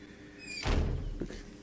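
A front door swinging open in the survival game 7 Days to Die, heard as a single solid thunk with a short scrape and a faint creak right after it, over quiet background noise.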